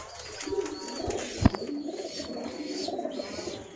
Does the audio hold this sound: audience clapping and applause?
no